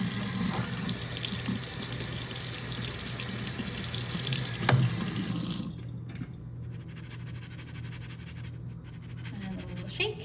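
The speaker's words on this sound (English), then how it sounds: "I'll give this another little rinse." Tap water runs steadily into a sink as cucumber seeds are rinsed in a strainer, a continuous close splashing hiss that thins out partway through, leaving quieter trickling.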